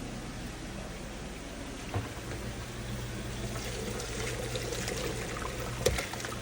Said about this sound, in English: the potatoes are ready to go ahead and be drained